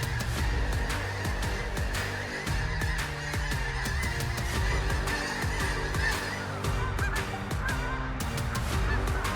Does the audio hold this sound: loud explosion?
no